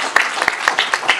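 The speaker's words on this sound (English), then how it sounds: "clap it up for Jameson" Audience at a city council meeting clapping for a young boy named Jameson, a loud close burst of scattered handclaps with a few sharp individual claps standing out.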